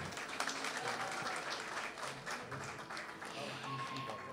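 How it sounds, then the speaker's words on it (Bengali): A school audience at a student appreciation event gives a quiet, continuous round of clapping for a young child singer, with faint voices and tonal sounds in the background. "ওর জন্য আরেকবার হাততালি হয়ে যাক।"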